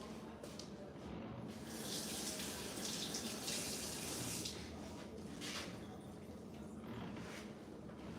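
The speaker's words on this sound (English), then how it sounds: "let me wash my hands real quick" Water runs from a kitchen tap during handwashing before preparing vegetables, a steady close hiss of flowing water lasting the whole stretch with small splashing variations, no speech audible.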